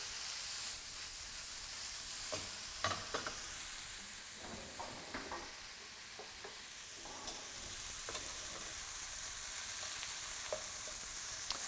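Onions frying in a pan on a burner, a steady soft sizzle with intermittent spatula scrapes and crackles, moderately quiet and continuous throughout.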